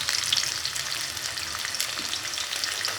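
Garlic curry sizzles in hot oil in a pan while a spoon stirs it, giving a steady close frying hiss with light scraping movements and no talking.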